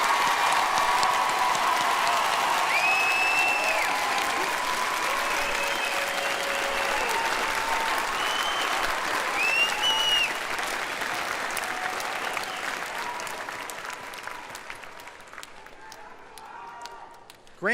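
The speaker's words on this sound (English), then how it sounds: "let's please give them one more big round of applause" A large crowd applauds the graduating class of 2019 at a high school graduation in Grandville. Sustained clapping and cheering with scattered shouts and voices runs long, then gradually fades out.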